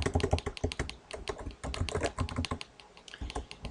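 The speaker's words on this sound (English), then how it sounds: "And here I'm going to just type Jean Campbell." Quick, irregular clicking of keys on a computer keyboard while an email signature is typed, close and fairly quiet, with no talking.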